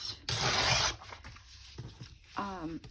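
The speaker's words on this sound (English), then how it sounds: "I'm just gonna rip these" Paper ripped by hand for a small junk journal: one loud, close tearing burst near the start, then softer rustling and handling, with a brief voice near the end.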